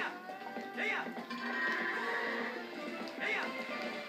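Goats in Zelda Twilight Princess let out two distinct wavering bleats, one early and one near the end, over a busy farmyard backdrop of soft clopping and rustling.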